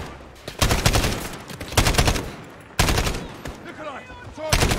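Rapid bursts of automatic gunfire in the Call of Duty Modern Warfare campaign during a street fight with civilians around, loud, close and repeated in several volleys, with brief game voices mixed in.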